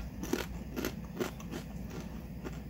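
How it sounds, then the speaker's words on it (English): Crunchy almond cassava cracker, a savory salty biscuit from a vegan charcuterie board, bitten and chewed close up, giving a series of crisp crunches about every half second. "It has good crunch on it, so here, you can listen to the crunch."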